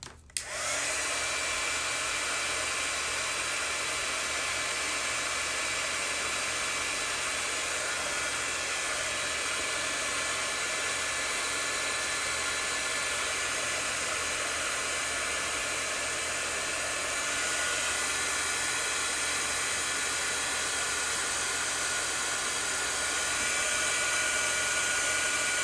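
Heat tool blows continuously while setting ink on fabric images, a steady loud whooshing hiss that switches on abruptly and runs unbroken for over twenty seconds with no talk.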